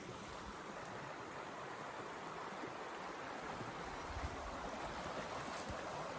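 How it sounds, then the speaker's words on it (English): A river flows steadily beside a bushcraft shelter site in the woods, a continuous broadband rush of moving water that holds at an even, fairly loud level throughout, with no talk over it. "we've got a river."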